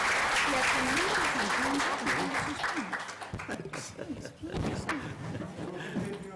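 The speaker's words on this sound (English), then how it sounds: "let's give a round of applause to these excellent presentations" Conference attendees at a panel on human security in the Americas applaud the presentations, steady clapping that thins and fades after a few seconds while voices and light chatter take over, with scattered claps lingering.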